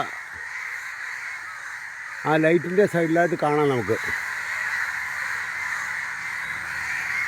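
Several crows caw harshly in a quick burst of repeated calls around a crow tangled in a power line, loud and fairly close, with a voice talking before and after.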